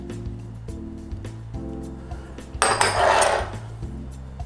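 Green onion, mint, red onion and sawtooth coriander being mixed in a bowl for Thai beef laab, a brief rustling toss over a steady low-pitched tonal background hum, close, no talking.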